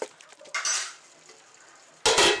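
A metal lid set over a pot of mushrooms cooking for biryani, faint clinks and rattles followed by two bursts of close noisy clatter and sizzle.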